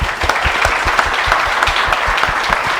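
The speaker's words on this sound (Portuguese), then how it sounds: "uma salva de palmas para a Andréia, né, e para a Sandra" An audience at a Q&A event gives a round of applause for two women, with steady, loud clapping from many hands and a few sharper nearby claps standing out in a regular rhythm.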